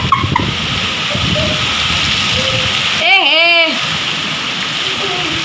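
Heavy rain hisses steadily throughout, loud and close, with a brief voice cutting through the downpour midway.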